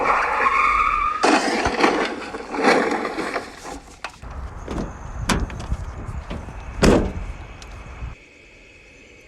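A truck skids into a ditch, with loud rough skidding and scraping bursts, heavy thuds and rattling impacts, close up, then a sudden drop to quiet; no talk.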